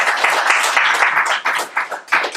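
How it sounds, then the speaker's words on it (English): An audience gives a speaker a round of applause at an evening talk, a dense burst of many hands clapping together, fairly close and loud, swelling and dipping over a couple of seconds. "big round of applause for Neil."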